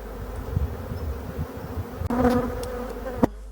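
Local Breton black bees buzz steadily in a six-frame nucleus hive, a dense continuous drone with a few louder close passes and brief knocks.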